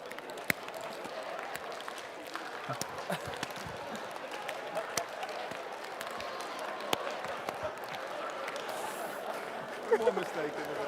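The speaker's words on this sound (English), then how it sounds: "click, then clap, then slap your thigh as fast as you can" A conference audience clicks, claps and slaps thighs fast all at once, a dense, quick patter of many hands spread across the room, fairly faint, with a few louder slaps standing out.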